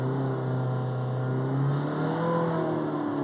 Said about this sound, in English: We'll do full acceleration.